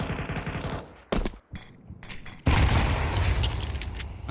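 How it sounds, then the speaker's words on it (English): Gunfire in a competitive Counter-Strike match on the Anubis map, rapid automatic bursts that cut off, a short lull with single shots, then a loud sustained hail of fire, with no talking. "just a hail of gunfire sends him to the afterlife"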